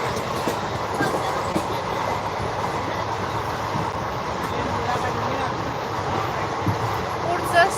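A passenger train rolls toward Akola station, a continuous close rumble with rhythmic wheel clatter, with voices faintly in the background.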